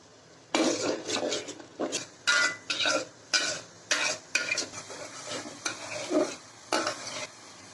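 Spice masala with chili powder for a shrimp malai curry being stirred and fried in a pan, a dozen distinct scraping, sizzling stir strokes in uneven rhythm, close and fairly loud, with no voices.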